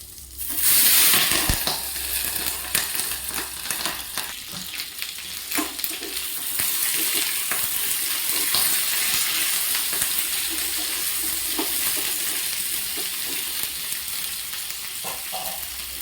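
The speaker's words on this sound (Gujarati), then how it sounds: "તેલ આવી ગયા બાદ આપણે તેમાં મેથી નાખવાની રહેશે ત્યારબાદ રાઈ જીરું એડ કરીશ ત્યારબાદ હું કાપેલા મરચાંને એડ કરી દઈશ" Fenugreek seeds, mustard seeds, cumin and chopped chillies sizzling in hot oil for a Gujarati chilli sambharo, with a loud burst of crackling as they hit the pan settling into a steady, close frying hiss.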